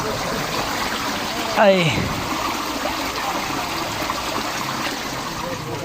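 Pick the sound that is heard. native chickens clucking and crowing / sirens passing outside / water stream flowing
water stream flowing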